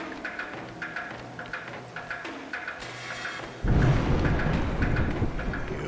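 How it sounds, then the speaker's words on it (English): Rolling thunder and heavy rain in the side-scrolling game A Juggler's Tale, a low rumble that swells into a loud, dense downpour roar midway through, with faint rhythmic chiming beneath. "Thunder calls through the woods."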